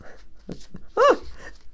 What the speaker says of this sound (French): J'ai été obligée de prendre ma toutou dans le bureau. Alors elle râle.